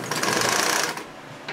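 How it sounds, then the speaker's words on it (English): An old Singer 31-15 industrial sewing machine runs in a short fast burst, a dense close whirring rattle that eases slightly toward the end, with no talking. "This is a 3115 Singer. It's an old industrial machine."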